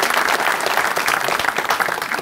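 Studio audience at a comedy show breaks into loud, continuous clapping for a guest, a thick, even wash of many hands lasting a couple of seconds, with no talk over it.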